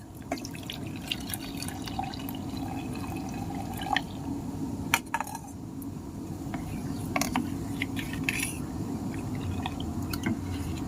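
Freshly extracted neem juice poured into a pot of fully melted soap, giving a steady low liquid wash with scattered small drips and clinks, close and moderately quiet with no talk.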